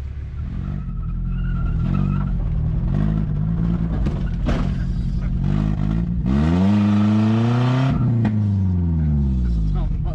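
Nissan drift truck engine revving hard toward high rpm, loud and close with rising and falling pitch sweeps, under someone talking over it.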